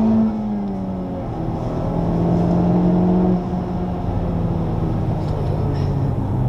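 A Honda Civic Type R accelerates on the Le Mans track with a steady engine drone that rises in pitch as the car pulls away. A voice speaks over the engine.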